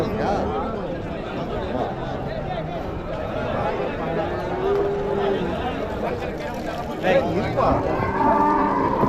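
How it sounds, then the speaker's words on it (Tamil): Dairy cows mooing at a busy cattle market in Uthangarai, with several low calls rising over steady crowd noise and someone talking nearby throughout. "இங்கே பார்த்தீங்கன்னா ஒரு நாலு கறவை மாடு கொண்டு வந்திருக்காங்க"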